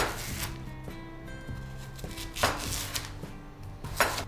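A knife chops green daikon on a cutting board to make a single serving of soup, with a steady run of close, crisp strokes across the clip.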